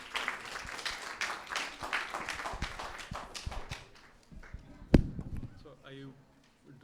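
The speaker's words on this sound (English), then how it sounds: "let's give our panelists a big round of applause as we begin the session." An audience claps in welcome for the panelists at the start of a literary conversation session. The dense clapping fades after a few seconds and is followed by a sharp knock and quiet talking.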